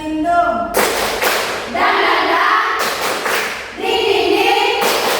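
Classroom of students clapping hands together in rhythm for a clapping game, bursts of loud near claps alternating with children's chanting and an adult voice speaking.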